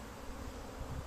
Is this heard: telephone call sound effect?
no